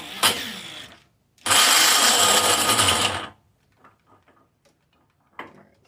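A power drill turns over a long-neglected, locked-up engine in two loud whirring bursts, the second running about two seconds, followed by faint clicks and rattles.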